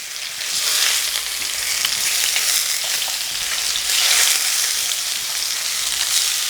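Fish fillets for tacos fry in a hot pan just after being flipped, giving a loud, steady, close sizzle that holds unbroken throughout.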